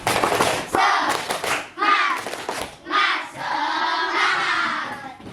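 A school class performs a rhythmic spirit clap, bursts of group clapping alternating with children chanting together in loud, close, patterned phrases.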